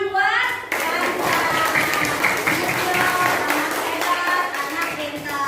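A primary-school class of fourth graders breaks into clapping for a student, a lively burst of many small hands close by with children's voices mixed in.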